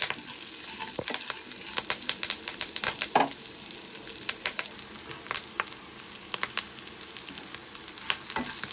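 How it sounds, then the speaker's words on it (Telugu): Curry leaves and spices sizzling in hot tempering oil for mango pulihora: a continuous close sizzle peppered with sharp, irregular pops and spatters. "చూస్తారా బాగా చక్కగా వేగుతుంది కదా, చిప్పట్లాడుతున్నాయి కదా."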